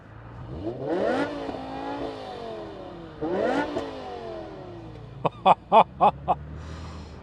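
A stock BMW V10 M5 engine revved on a European road trip, two rising and falling revs with a harmonic whine, loud and close, followed by a quick series of sharp bursts.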